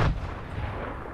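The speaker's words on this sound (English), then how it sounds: "I'm gonna chuck a nade." A single heavy blast from a thrown grenade in a battle royale video game, a sharp boom at the start trailing into a rumbling decay.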